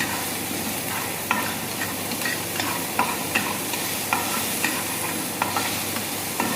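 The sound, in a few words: lightly sautéing food in a pan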